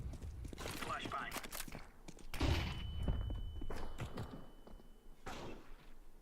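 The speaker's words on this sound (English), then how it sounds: "Flashbang." A flashbang grenade detonates in a video game with a sharp, loud burst, followed by a steady high-pitched ringing that hangs for about three seconds before cutting off, amid gunfire-like thumps and game noise.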